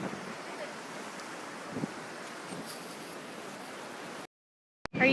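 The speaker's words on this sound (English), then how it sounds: "Walking the beach." Surf washing onto a beach under steady wind buffeting the microphone, a continuous broadband rush with a few swells, ending in a sudden cut to silence and a brief loud burst.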